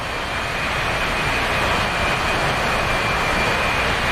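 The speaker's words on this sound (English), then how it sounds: "They've got 3 launch stations, but the launch stations all share the same ramp, so only one plane is taken off at once." Jet aircraft launching one at a time from the Russian carrier Kuznetsov's shared ski ramp in the DCS combat flight game, a loud steady roar of engines holding at full power throughout, no talking.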